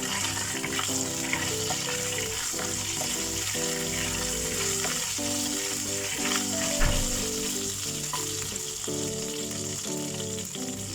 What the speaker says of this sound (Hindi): अब इसी तेल में हम ये गरम मसाला ऐड कर देंगे।